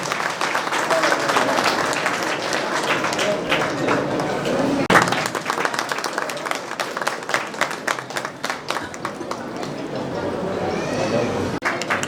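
Applause fills a student award ceremony: a crowd claps in a dense, lively burst, with a voice speaking over it and a few thumps, and the clapping thins toward the end.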